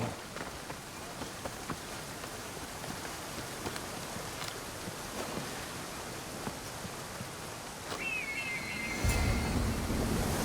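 Continuous rushing waterfall in Assassin's Creed Odyssey, a dense steady wash of water noise near the player, with a brief tonal game chime and a low thud near the end.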